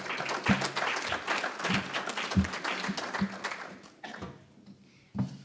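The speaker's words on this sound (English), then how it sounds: "Please give them a round of applause." An audience applauds at a community forum on crime and public safety, the clapping moderately loud at first, then thinning and tapering off, with a few isolated claps near the end.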